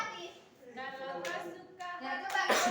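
Several sharp hand claps ring out among children singing and chanting nearby.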